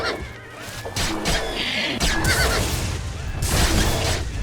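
A horse whinnies repeatedly in an open-world fantasy role-playing game during a fight with a bear, the neighs loud and close over game ambience and effects.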